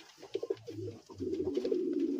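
Pigeons coo in a pigeon loft, several birds giving low, throaty rolling calls close by, with a steady murmuring coo building through the second half and no talk.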